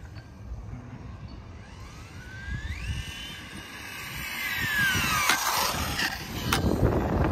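A Kyosho 1970 Dodge Charger Super Charged VE 1/10-scale electric RC car runs at full throttle, its motor whine rising in pitch as it approaches and growing louder over outdoor background rumble.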